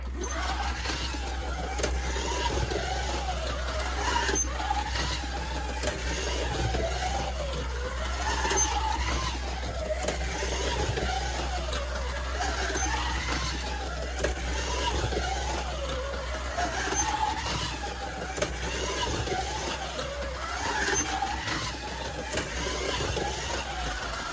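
A Scalextric Ford Daytona Prototype slot car lapping a track, a steady electric motor whine rising and falling with each pass through the corners, continuous and moderately loud over a low hum.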